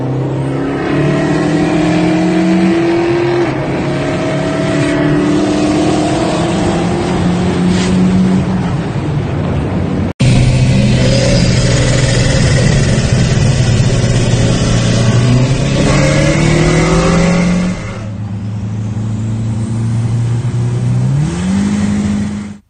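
A turbocharged Dodge SRT-4 Neon revs repeatedly, its loud engine note climbing and dropping in pitch through several throttle pulls, heard close with a brief cut midway and a final rev before it stops.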